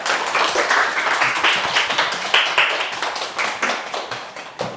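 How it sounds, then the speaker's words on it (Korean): An audience claps in a steady, dense round of applause to welcome a guest speaker at a talk on reducing plastic, sustained and fairly close with no voices over it. "박수로 맞이해주세요."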